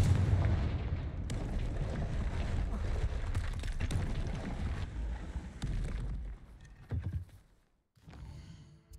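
A Confringo fire spell blasts in Hogwarts Legacy, a loud, dense explosive roar filling several seconds before breaking up into rumbling bursts and trailing off near the end.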